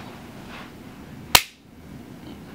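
A single sharp pop, made by a voice imitating the sound, snaps out once against faint background hiss.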